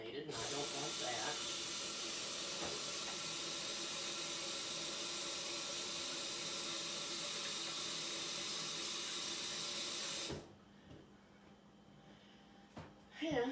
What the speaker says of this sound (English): then I'm going to wash my hands because they can be contaminated